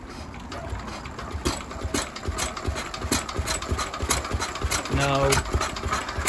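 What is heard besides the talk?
Lister D stationary engine trying to start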